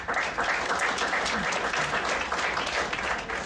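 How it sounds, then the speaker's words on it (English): Audience at a school district governing board meeting gives a round of applause, a continuous, moderately distant wash of clapping hands that holds steady throughout. "Can we give them one more round of applause, please?"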